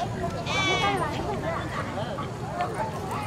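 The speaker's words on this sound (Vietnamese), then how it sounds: "nghe thấy tiếng dê kêu à?" Goats bleat amid the bustle of an open-air highland market in northwest Vietnam, wavering cries rising over crowd noise while people talk nearby.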